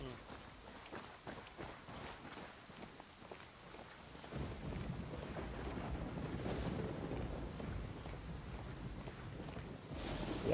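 Rain in Tom Clancy's Ghost Recon: Wildlands at night hisses steadily in the background, growing heavier and louder partway through, with a low rumbling undertone.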